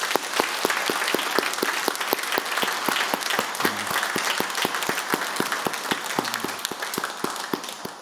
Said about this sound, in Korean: 감사하다는 격려의 박수